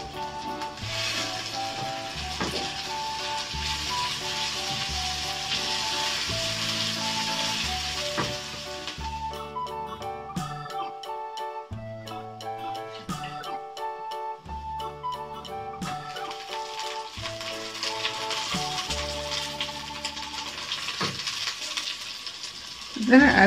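Green pepper sizzling in a hot frying pan, a steady close hiss of frying that continues throughout, with stirring and scraping beneath and no talking.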